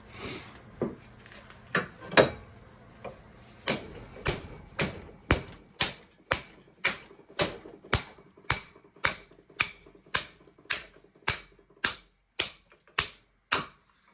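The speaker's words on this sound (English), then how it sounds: "I prefer just to hit it with the hammer" A hammer strikes metal about twenty times while transformers are broken down by hand, sharp ringing blows, irregular at first, then a steady even rhythm, close and loud.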